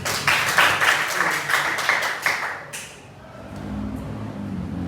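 Students in a classroom clap for a classmate in a short burst of rhythmic group applause that stops abruptly near the three-second mark, leaving quiet room noise.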